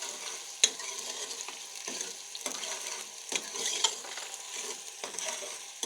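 A spoon stirs Kashmiri-style white lobia (black-eyed beans) in a pot over a high stovetop flame, with repeated scraping strokes against the pan over a soft, constant sizzle, close by and without speech.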